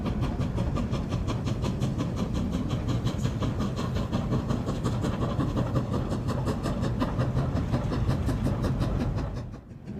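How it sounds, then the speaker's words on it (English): Steam locomotive hauling a train up the Jinpang mountain pass, a loud, continuous close rumble with rapid rhythmic chuffing and rail clatter that fades slightly at the end, no voices. "With drive wheels sometimes slipping, these mighty steam locomotives carry on undaunted all the way to the"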